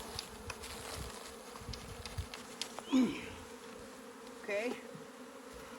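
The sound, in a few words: honeybee swarm being dropped into a swarm box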